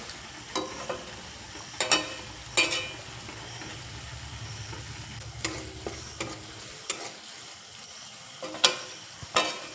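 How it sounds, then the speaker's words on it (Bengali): A spice paste cooks down in oil in a pan, giving a low sizzle punctuated by sharp, irregular scrapes and knocks as it is stirred. "দেখো এখানে মশলাটা খুব ভালোভাবে কষানো হয়ে গেছে, মশলার থেকে তেল ছেড়ে দিয়েছে।"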